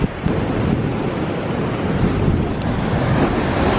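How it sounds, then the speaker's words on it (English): Big surf crashing along the Bridlington seafront with strong wind buffeting the microphone, a continuous loud roar of waves and gusts with no pause. "These are the biggest waves I've ever seen."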